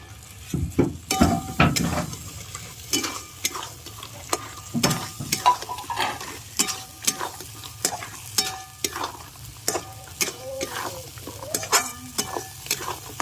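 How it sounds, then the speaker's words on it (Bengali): Large freshwater prawns are tipped into a pan of cooked-down masala and stirred. The result is a steady moderate sizzle broken by repeated sharp clinks and scrapes of the spoon against the pan. "এবার এই চিংড়ি মাছগুলো এর মধ্যে ঢেলে দিচ্ছি।"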